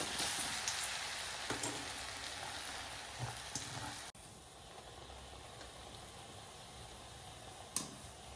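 Mung dal vadas deep-frying in hot oil give a steady, close crackling sizzle like light rain, with a few small pops and a brief dip partway through before the frying hiss resumes.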